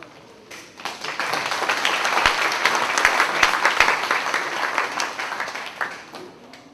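Congregation at a church general assembly breaks into sustained applause to welcome a guest preacher, a dense wash of clapping that swells, holds steady for several seconds and then tapers off.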